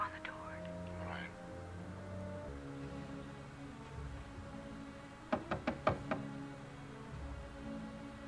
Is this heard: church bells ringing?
no